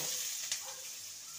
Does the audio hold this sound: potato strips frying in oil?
yes